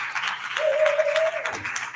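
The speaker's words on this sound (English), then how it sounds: "But I want you all to give these two ladies a round of applause," Audience at a writers conference in a library branch gives a short burst of applause, moderate scattered clapping with a brief tonal sound over it.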